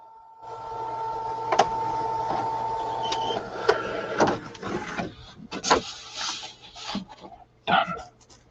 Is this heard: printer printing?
yes